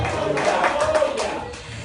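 Church congregation applauding during a Spanish-language sermon, a dense, steady patter of many hands clapping at close range for about two seconds, with voices mixed in underneath.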